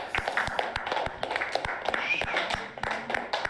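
Scattered, uneven hand clapping close by, a run of sharp taps for several seconds, with faint talk mixed underneath.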